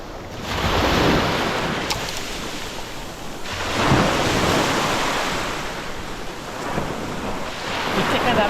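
Surf breaks on the shore at Twin Beach on Carnaza Island, Cebu, a broad continuous wash that swells and recedes in several loud surges, with wind rumbling against the microphone.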